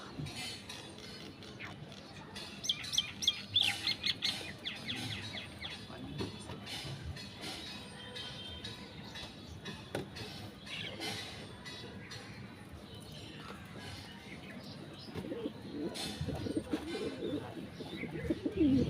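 Pet pigeons let out onto a rooftop in the afternoon coo and call at close range, soft repeated coos mixed with light chirps over a quiet outdoor background.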